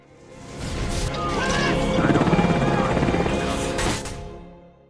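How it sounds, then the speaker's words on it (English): A helicopter's rotor thumps rise to a loud pass overhead and then fade away, with a few voices heard faintly beneath. "They went around in a helicopter"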